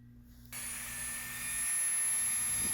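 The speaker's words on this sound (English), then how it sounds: "I'm just using a Dremel with a heavy-duty cutoff wheel" A Dremel with a heavy-duty cutoff wheel starts abruptly and cuts into a shaft, a sharp high whine over a broad hissing grind that grows louder and holds steady close by.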